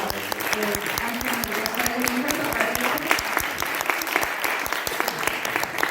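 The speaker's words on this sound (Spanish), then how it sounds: "Un aplauso, por favor, para Ángel." An audience after a documentary talk about "Tolvanera" breaks into loud, sustained applause, many hands clapping in a dense, continuous stream with individual claps standing out nearby, and a voice speaking faintly beneath.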